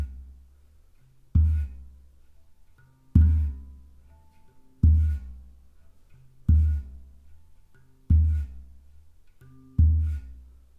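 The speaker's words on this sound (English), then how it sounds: "I'm going to thump the central tone with my palm and at the same time" A handpan is struck with a palm thump on its central tone while the hand slides into the port. Six deep, resonant booms land at even intervals, close and fairly loud, each decaying into a muffled low ring with no talking.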